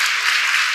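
Congregation applauding in a church during a testimony service, a short dense burst of steady clapping with no speech over it.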